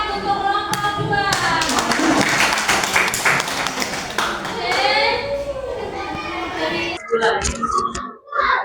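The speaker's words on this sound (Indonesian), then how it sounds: "tepuk tangan untuk kelompok 2" Students in a school classroom clap for a presenting group amid lively children's chatter and classroom noise, the clapping loud and dense before voices carry on.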